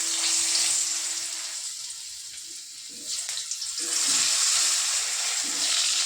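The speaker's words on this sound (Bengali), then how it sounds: "আর তেল গরম হয়ে গেছে। এবার আলু দিয়ে দেব।" Potatoes frying in hot oil give a steady, loud broadband sizzle throughout, with a low hum and a few clatters partway through.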